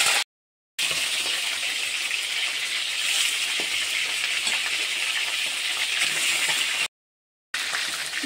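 Chicken pieces fry in oil for a Hyderabadi chicken dish, giving a loud, continuous bright hiss and crackle close by, broken by two short silent gaps.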